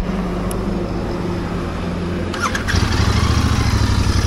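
A Royal Enfield Continental GT 650 with an inline twin engine idles in neutral through twin silencers, a steady, loud, close low rumble that swells slightly toward the end.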